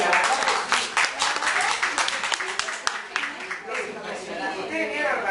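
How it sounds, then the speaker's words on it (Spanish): An audience at a lecture on the Dialectic of Enlightenment breaks into applause, steady clapping filling the room throughout, with voices and murmuring mixed in. "Un aplauso."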